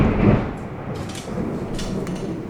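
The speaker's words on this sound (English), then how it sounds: "This is what you call a storm. A real storm." Thunder from an extreme thunderstorm rolls loud and close, a deep rumble that swells at the start, eases slightly, then builds again with a crackling edge, with no voices.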